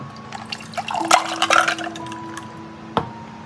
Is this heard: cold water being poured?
yes